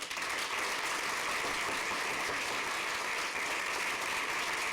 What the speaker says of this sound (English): Again, please refrain from applause so we can get through all the speakers.